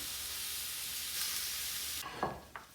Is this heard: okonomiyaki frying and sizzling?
yes